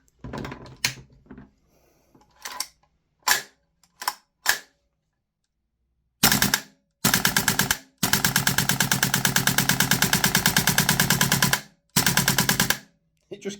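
Tokyo Marui AKM gas blowback airsoft rifle fitted with a Bow Master 130% recoil spring, firing loud sharp single shots at first, then long rapid full-auto bursts of crisp clacking blowback cycles, close by.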